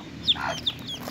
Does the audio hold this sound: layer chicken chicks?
yes